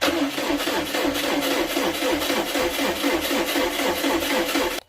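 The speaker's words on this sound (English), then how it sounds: "So let's go crank the engine." A Subaru car engine runs at a steady idle after cranking over, a loud, continuous mechanical drone with an even pulsing rhythm close by, cutting off abruptly at the very end.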